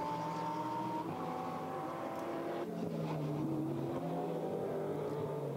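GT4 race car lapping the Nürburgring in qualifying, heard as a faint, distant engine drone whose pitch climbs and falls through gear changes, steady throughout with no voices.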